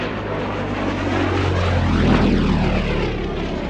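A de Havilland Chipmunk piston-engine propeller aircraft taxis at an airfield evening display, its engine a loud, continuous droning rumble close by, with a sweeping pitch shift as it passes.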